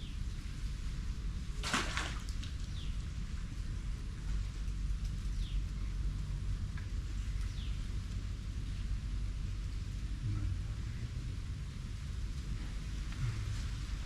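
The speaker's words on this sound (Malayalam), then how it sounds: "മഴ പെയ്തു ഗൈസ്." Steady rain falls around a fishing spot, a constant dense patter filling the background at moderate level, with a single brief sharp knock early on and no talk.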